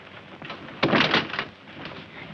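A locked door in a 1941 film scene is tried and shaken, giving one loud burst of rattling and thumping that lasts about half a second before fading to quieter knocking.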